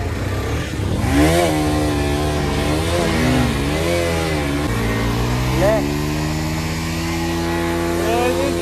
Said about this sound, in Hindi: Check this out guys, burnout मार रहे हैं अभी गाड़ी से।